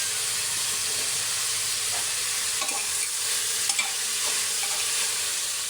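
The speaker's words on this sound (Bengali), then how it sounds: "তারপরে আমি ভেজে রাখা সয়াবিনগুলো দিয়ে দিব" Fried soybean chunks stirred into vegetables frying in a pan for vegetable khichuri, a constant close sizzle broken by a few scraping strokes of the spatula, no talking.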